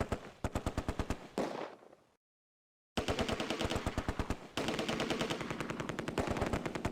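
Heavy machine gun fire in the Close Combat: A Bridge Too Far wargame, with rapid, loud bursts of evenly spaced shots, a brief silent gap, then long sustained strings of fire.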